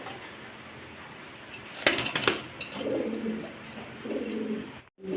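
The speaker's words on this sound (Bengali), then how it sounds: "বন্ধুগণ দেখতে পাচ্ছেন 2টা কবুতর রয়েছে সেম টু সেম আলহামদুলিল্লাহ শর্ট ফেস কবুতর" A pair of short-face pigeons coos softly in a few brief low bursts over steady background hiss, with a couple of sharper clinks near the start; the birds sound close but quiet.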